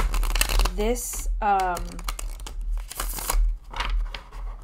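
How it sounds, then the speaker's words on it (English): Tarot cards being shuffled in quick riffling bursts, crisp and close, with a voice speaking briefly between the shuffles. "These shuffle really, really well."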